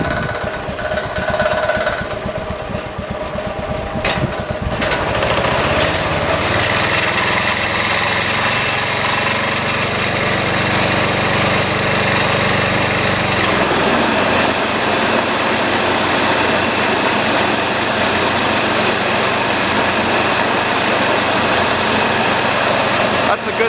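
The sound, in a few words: riding lawnmower engine idling with the deck running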